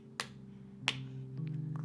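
Two sharp single claps about 0.7 seconds apart punctuate a quiet storytelling scene set in the woods, with a low steady hum running underneath.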